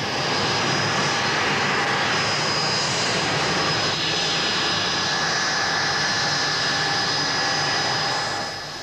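A Buccaneer jet aircraft engine roars in a continuous, loud, broad whine and rumble with a thin high tone riding on top, steady throughout and easing slightly at the close.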